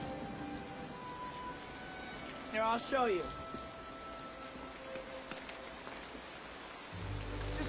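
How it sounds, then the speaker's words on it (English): Steady rain falls in a soft, even hiss throughout, heard under a brief spoken line, with a low rumble entering near the end. "It's just rain, it's okay."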